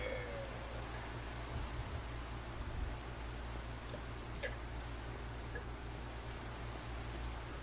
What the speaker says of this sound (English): it seems to be raining everywhere